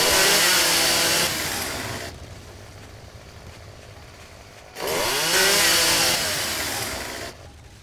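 A chainsaw in 7 Days to Die runs loud and close in two long, harsh bursts, each one revving up and then cutting out. A quieter idle stretch sits between them.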